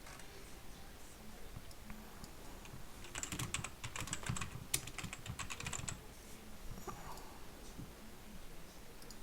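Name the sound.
typing on a computer keyboard to update stream title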